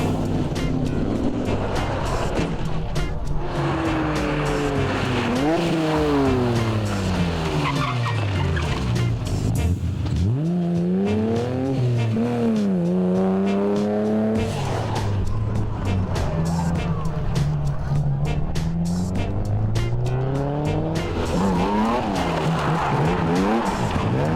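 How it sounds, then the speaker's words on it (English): Rally cars at Targa New Zealand, including a Toyota Altezza, skid and squeal their tyres while overshooting a corner, with loud engines revving up and down throughout as commentary runs over them. "Tony Head and Malcolm Reed in the Toyota Altezza joined the throng of cars overshooting the mark"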